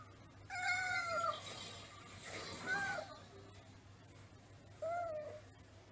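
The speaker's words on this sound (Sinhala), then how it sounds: "හොරතල් වෙන්න උවමනා වුණාම පූසා කෑ ගසනවා." A cat meows three times, each call rising and falling, fairly close and clear against a quiet background with a faint steady hum.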